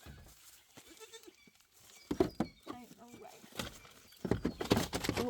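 Several goats bleat close by in overlapping, wavering calls, some loud and some softer, with people talking in between.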